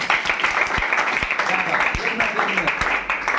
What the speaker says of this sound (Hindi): बार जोरदार ताली हो जाए